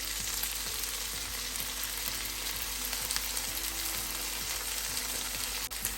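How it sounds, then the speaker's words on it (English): Chopped green chilies and tomatoes fry in a pan with ginger garlic paste for paneer bhurji, giving a steady, close sizzle with faint stirring clicks and no talk. "We'll lightly cook our tomatoes."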